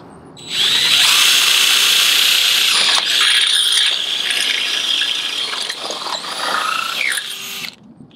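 Close and loud, a power drill fitted with a 5/16 bit spins up and grinds steadily through a hoop and on into a board, with a ratcheting, gear-like whir that wavers slightly before cutting off after about seven seconds.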